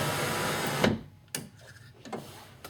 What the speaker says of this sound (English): Now raise the window all the way up.